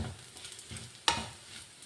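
Food is sautéed in a pan with a faint, soft sizzle, light stirring scrapes and a single sharp clack of a utensil.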